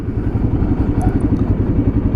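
Royal Enfield Himalayan motorcycle riding over wet brick streets in Kent, Ohio, its engine a steady, loud, rumbling chug that runs continuously throughout without a pause.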